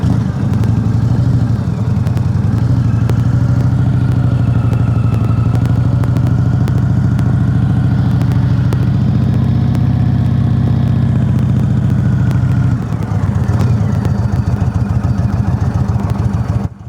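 A motorcycle engine runs steadily and loud up close while riding through tight turns, its low throbbing note holding with slight rises and a brief dip near the end, with no voices.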